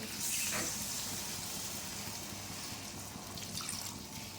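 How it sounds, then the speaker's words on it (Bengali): Water poured into a pan of Kashmiri aloo dum after the spiced potatoes are fried, a steady running splash close by with a brighter burst at the start, no talking. "এবার আমি জল দিয়ে দেবো।"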